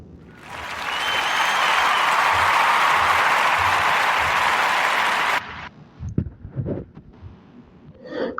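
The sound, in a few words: audience applause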